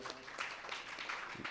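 A lecture audience at a Ramcharitmanas speaking workshop gives a short, brisk round of applause for a grandfather, with scattered claps filling the whole moment.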